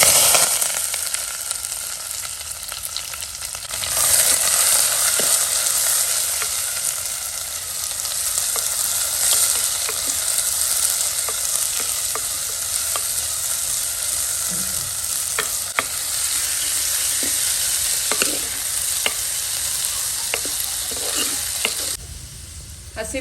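Onion fries in coconut oil with mustard seeds for a Kerala-style mud crab dish, giving a loud, steady, close sizzle with scattered pops and small stirring clicks throughout.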